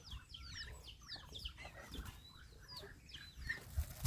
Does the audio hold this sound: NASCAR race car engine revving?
no